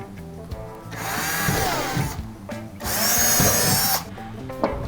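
A power drill with a 1/8-inch bit whirs in two bursts, rising and settling in pitch as it bites into a plate cover, with brief pauses and handling noise between.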